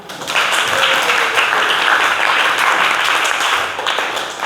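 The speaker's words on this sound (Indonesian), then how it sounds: "Tepuk tangannya." Schoolchildren in a classroom clap together in a burst of enthusiastic applause, loud and close, rising quickly and holding steady for several seconds before tapering off.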